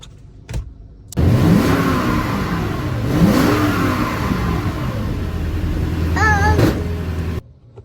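A car engine revs up loudly as the car pulls away and drives off, holding a strong rising and falling roar for several seconds before cutting off abruptly, with no speech.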